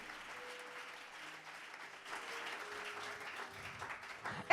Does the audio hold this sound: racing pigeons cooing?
no